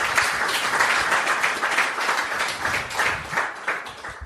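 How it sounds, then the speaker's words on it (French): An audience at a panel discussion on gender parity in illustration careers applauds its guest speakers: steady, dense clapping from many hands, close and loud, holding evenly for several seconds. "on peut déjà les applaudir"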